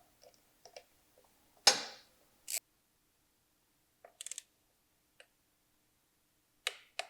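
A torque wrench tightening floor board bolts gives a few sharp clicks and ticks spread across quiet gaps, close and clear with no talk.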